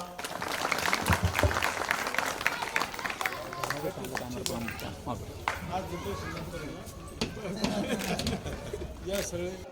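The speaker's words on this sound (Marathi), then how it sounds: "त्यांच्यासाठी आता टाळ्या वाजा" A crowd claps in dense, uneven applause at a school gathering, continuing steadily throughout, with scattered voices mixed in.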